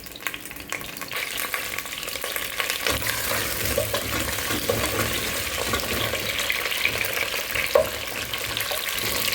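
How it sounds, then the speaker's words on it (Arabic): Onions fry and splatter in hot ghee in a pot, a steady close sizzle with crackling pops that continues without letup, with no talking. "البصل لانه فيه سوائل رح يطرش هيك، بس حلو اني اعطيه صدمه هيك مثل هيدي"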